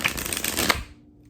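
A new, not yet broken-in tarot deck being shuffled, a quick dense riffle of card flutter lasting under a second, close and fairly quiet, then silence.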